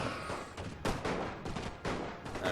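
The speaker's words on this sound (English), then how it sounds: "now our infantry is focusing fire on the single regiment" Infantry musket volleys in the Napoleon Total War battle game crackle in ragged, overlapping bursts of shots. The firing is fairly distant and keeps going without a break.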